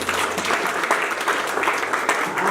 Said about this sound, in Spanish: hoy recibimos tu palabra con un fuerte aplauso